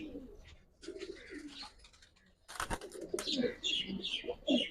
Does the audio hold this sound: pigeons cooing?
yes